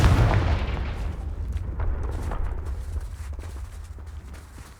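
Confringo spell blast in Hogwarts Legacy, a loud booming burst at the start that rolls off into a long rumbling decay and slowly fades.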